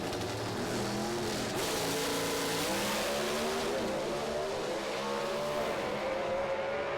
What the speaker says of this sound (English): listen to the roar of these 400 cubic inch naturally aspirated engines.